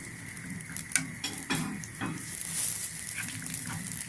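Garlic sizzles in hot ghee for an Egyptian mallow tadka, a soft crackling fry with a few sharper pops and stirring clicks, fairly quiet and close.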